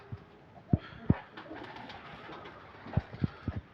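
A pigeon indoors in a room coos softly in low, throaty pulses, a couple early and a cluster near the end, quiet and close against faint background noise.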